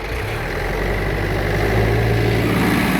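A heavy tractor engine running close by, a low steady rumble that swells slightly as it revs up, with no voices.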